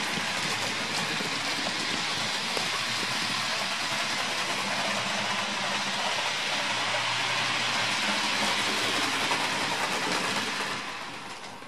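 A Bachmann model train hauling departmental olive green rolling stock in Railfreight livery runs steadily on the track with a continuous close motor whir and wheel rumble, easing slightly at the very end, with no talk.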